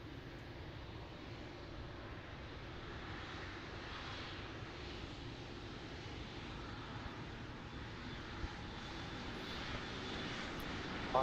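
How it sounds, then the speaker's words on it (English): An Atlas cargo jet back-taxis on runway 33 at Ted Stevens Anchorage International Airport after a long flight from China, its engines a steady, faint, broadband roar heard from a distance with no other sounds. "Atlas flight 8609. 8-hour, 32-minute flight from Izhou, China. Back taxiing on runway 33."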